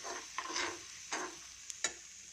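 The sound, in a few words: stirring and roasting semolina (upma rava) in a pan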